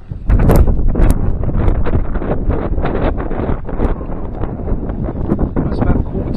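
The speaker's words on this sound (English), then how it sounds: "that wind really has picked up now" Strong gusty wind buffets the microphone beside a flooded river, a continuous roaring rush with rustling bursts throughout and no speech.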